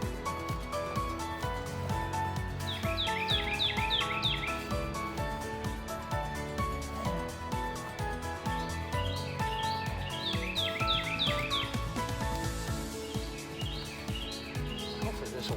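Morning birdsong outside on a homestead: bright chirping phrases in several bursts, some overlapping, moderately near, set against a steady dense background.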